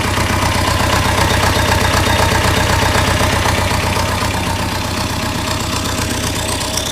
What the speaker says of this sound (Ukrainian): Ось так працює вихлопна труба, можете послухати зблизька.